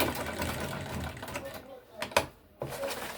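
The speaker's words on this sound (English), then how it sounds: "So we're double stitching." Sewing machine double stitching a fabric tote bag with adjustable straps, running in steady rattling bursts up close, pausing briefly and starting again.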